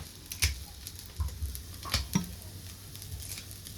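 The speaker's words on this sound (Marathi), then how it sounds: "कांदा थोडासा कच्चा आहे, अजून कांदा थोडा वेळ भाजून घेणार आहे" Onion and coconut roasting in a pan for a fresh chickpea curry give a faint, steady crackle, broken by a few soft stirring scrapes and clinks.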